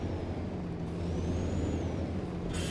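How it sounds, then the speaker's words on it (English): A truck's air handbrake in American Truck Simulator: a steady low engine idle rumble, then a sharp, brief hiss of air release right at the end. "I'm going for my handbrake then"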